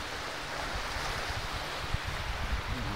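Ocean surf rolls at Air Manis beach, a broad continuous wash of breaking waves mixed with wind rumble against the microphone, with no talk.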